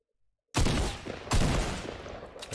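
Rapid gunfire from a weapon with a cosmetic wrap in Fortnite erupts after a moment of silence: two loud, close bursts of shots, the second trailing off into scattered fire.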